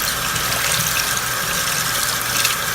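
Water runs into and is squeezed through a makeup sponge for foundation application, a steady close hiss of flowing, gushing water like a running tap with no pauses throughout.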